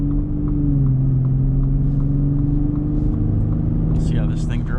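2022 Ford F-150 Raptor pickup with high-output 3.5 engine driving in sport mode, a loud steady low engine drone with road rumble throughout, brief higher noises near the end.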